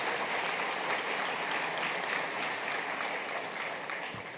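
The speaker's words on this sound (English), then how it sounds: "stand up for a round of applause so richly deserved for supporting all of our efforts" Soft, distant applause from a conference audience at a summit opening session, a continuous even wash of many hands clapping that stays steady and tapers slightly near the end.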